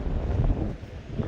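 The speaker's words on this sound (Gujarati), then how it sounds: "ફૂફાડા મારે છે પવન ને" Strong wind at sea on a fishing trip buffets the microphone in a dense, low roar, steady and close, with no voices.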